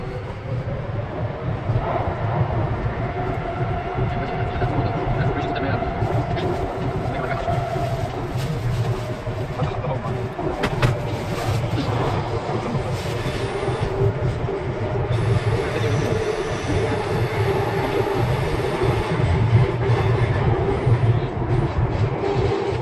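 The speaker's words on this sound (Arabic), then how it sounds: "This train is for YVR-Airport." A Vancouver SkyTrain Canada Line train bound for YVR Airport hums steadily along the track, with rolling wheel noise, faint squeals and a constant motor whine heard from on board.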